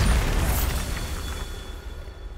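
A Bombarda blasting spell goes off in Hogwarts Legacy, a loud, broad explosive burst with a rumbling low-end tail that slowly fades over about two seconds, heard alone.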